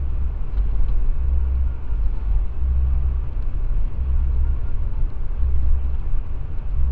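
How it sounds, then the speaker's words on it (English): Front-wheel drive car on Michelin CrossClimate 2 all-weather tires driving through deep snow: a steady, continuous low engine and road rumble heard from inside the cabin, with no speech. "I'm driving a front-wheel drive vehicle with all-weather tires"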